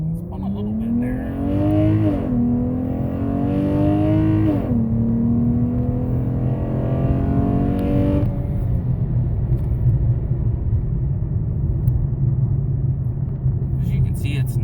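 Dodge Challenger with a 6.4-litre Hemi V8 and BBK throttle body revving up through rising engine pitch that resets at each gear change, then settling into a loud steady drone up close.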